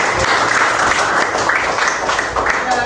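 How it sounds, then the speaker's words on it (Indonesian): Steady applause from a classroom or lecture audience in Indonesia, a dense even patter of many hands filling the whole stretch at close range. "saya kasih tepuk tangan."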